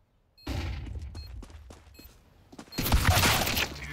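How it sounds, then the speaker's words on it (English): Flashbang grenade in Counter-Strike 2 on the Inferno map, a sudden burst of sharp gunfire-like pops and clatter followed by a louder, bright blast with ringing noise near the end. "Deploying flashbang."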